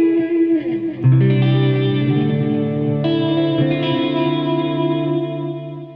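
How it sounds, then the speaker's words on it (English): Clean electric guitar run through a TC G-System with vibrato, sustained chords and notes shimmering with a wavering, chorus-like pitch wobble and reverb tail, loud and alone with no talking. "That it's cool that you're using the vibrato."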